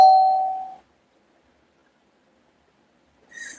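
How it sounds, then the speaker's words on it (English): A phone alert tone that sounds like a doorbell chimes once, loud and close, then fades to silence before a brief high electronic sound at the end. "my doorbell going off," which is my phone. It's alerts or messages or whatever"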